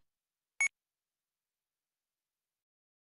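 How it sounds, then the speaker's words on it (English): An electronic prompt tone in a spoken English test sounds once: a single short, clean beep against otherwise silent background. "After the beep, please say your name."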